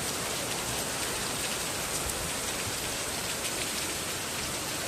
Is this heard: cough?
no